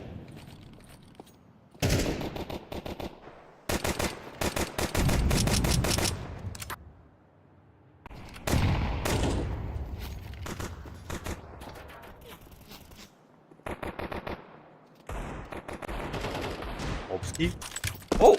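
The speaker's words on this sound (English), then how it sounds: "Oh, Roy got the first with the AK." AK-47 rifle fire in a Counter-Strike esports match, rapid bursts of automatic shots in several clusters, mixed with other game effects and a commentator talking.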